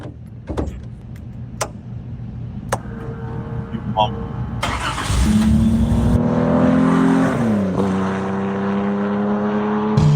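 A Jaguar race car engine roars and revs up loudly, its pitch climbing and shifting through gears, with people talking faintly in the background.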